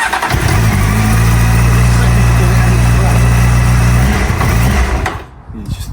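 A cold Honda Hornet CB 600 motorbike running on choke, a loud close engine drone holding for several seconds before faltering and cutting out, leaving near quiet, with a voice speaking briefly.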